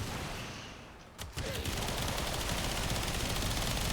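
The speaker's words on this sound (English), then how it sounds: "Hit him with a couple of shots of this." Gunfire from the Mesa weapon in a video game: a couple of shots burst out sharply after a brief lull, followed by a dense, continuous crackle of game effects and noise filling the rest.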